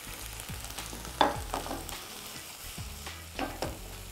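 Cherry tomatoes fry in a pan for a warm cherry tomato and chickpea salad, giving a steady close sizzle broken by a few sharper clatters as they are stirred, with no talking.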